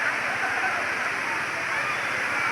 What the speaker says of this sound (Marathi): एक नंबर धबधबा आहे बघा